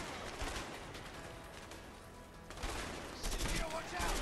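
Gunfire from the video game A Way Out, with bursts of shots in a dense, continuous stretch of combat noise that grows louder toward the end.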